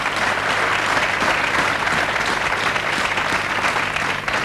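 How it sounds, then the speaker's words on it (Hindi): A TV game show studio audience breaks into loud, dense applause that stays thick and constant throughout, welcoming a contestant onto the set, with no voices on top. "एक बार फिर तालियों से आपका स्वागत।"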